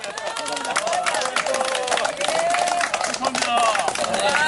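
Members of the Gumi Marathon Club applaud at a Sunday morning training gathering at Geumosan, a loud continuous patter of clapping from a group mixed with crowd chatter and voices throughout.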